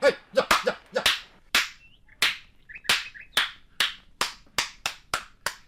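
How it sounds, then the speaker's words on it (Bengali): Sharp, evenly spaced claps ring out one at a time, about two per second, loud and close, from an audience being told to applaud. "এইবার আপনারা হাততালি দিয়া বাড়ি যান"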